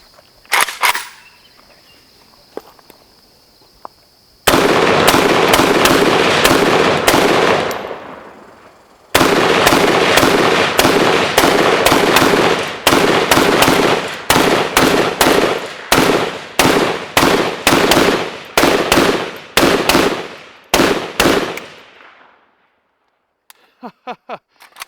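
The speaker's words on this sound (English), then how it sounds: "we're just going to test fire this thing and see if it runs" A Palmetto State Armory AK-P pistol test-fired in long strings of loud, close, rapid sharp reports, a brief pause between magazines, then further fast shots trailing off at the end.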